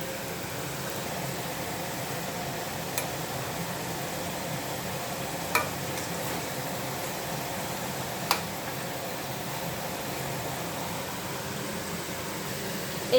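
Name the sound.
litti frying lightly in oil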